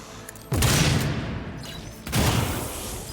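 Rapid bursts of automatic gunfire from the Warhammer 40,000: Rogue Trader video game, two loud sustained volleys about a second and a half apart, each fading into rumbling echo.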